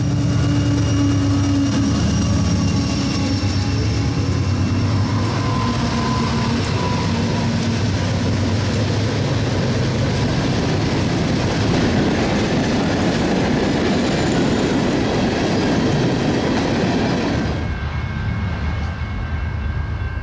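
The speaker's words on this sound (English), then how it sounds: "This lineup is for an Orlando coal train coming empty from the plant and turning northward" An empty coal train passes on a CSX line, a loud continuous rumble with rattling, clattering cars and steel-wheel squeal that carries on before easing slightly near the end.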